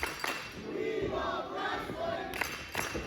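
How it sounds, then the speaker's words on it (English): A wrestling crowd at a live show chants in unison, a broad, roaring wash of many voices that holds steady with a few louder swells. "Again, we hear this crowd, those chants of "We Love Wrestling.""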